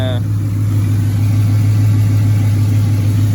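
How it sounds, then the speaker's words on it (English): A 5.3 LS small-block V8 swapped into an S10 truck idles steadily and close by, a deep constant rumble with an even low throb throughout, and a brief higher tone at the very start. "we got the truck idling"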